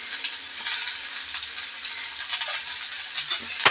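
Onions frying in a pan, a steady bright sizzle with soft crackles and occasional stirring scrapes near the end, close and alone.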